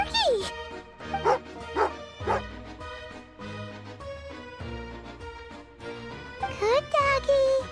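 A dog barks and yips repeatedly in the video game Genshin Impact, the bursts mixed with game music and sound effects, with whimpering and voiced game dialogue between the barks.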